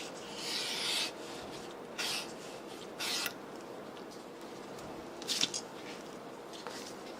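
A tool bevels a leather edge in several short rasping strokes, rhythmic scraping shaves spaced about a second apart, close and quiet, with faint handling noise between.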